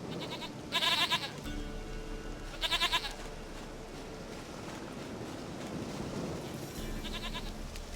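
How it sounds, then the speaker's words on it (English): A goat in the video game The Witcher 3: Wild Hunt gives three short, quavering bleats spaced a few seconds apart, fairly faint over a steady wind-like ambient hiss and low rumble. "Goat of mine, dearest, sweetest goat."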